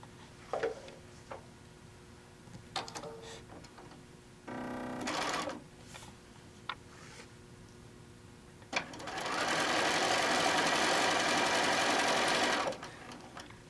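Sewing machine stitching quilt blocks for a poppy panel quilt top with a quarter-inch seam: a short buzzing run, then a long steady whirring run of several seconds, with faint handling clicks between.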